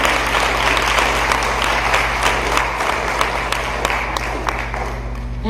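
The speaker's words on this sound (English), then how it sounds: "let's give a nice round of applause to our judge," Warm, sustained applause from an audience at a speaking contest honouring a judge, dense and loud from start to finish over a low steady hum, tapering slightly toward the end.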